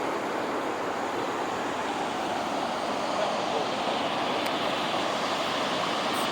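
Kepler Cascades waterfall in Yellowstone National Park, a steady broadband rush of falling water, loud and unbroken, heard alone throughout.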